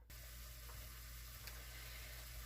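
Puerto Rican sofrito sizzles steadily in a hot pan for chili rice, a constant fizzing hiss with a low hum beneath and no voices.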